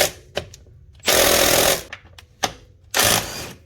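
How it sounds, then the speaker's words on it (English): A power tool removes the 15 mm brake caliper bolts on a 2012-or-later Gen 2 Can-Am, sounding as two loud, harsh rattling bursts separated by clicks and handling knocks, with no talking. "Take out the bolts, slide up the caliper."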